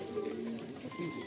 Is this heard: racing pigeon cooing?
yes